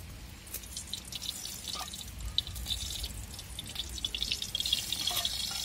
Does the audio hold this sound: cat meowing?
no